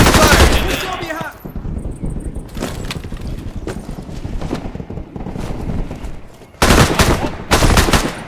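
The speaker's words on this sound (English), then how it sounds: "Enemy fire." Video game firefight with enemy gunfire: loud bursts of automatic shots crackle through the opening second, steadier volleys roll on underneath, and two sharp, dense bursts return near the end.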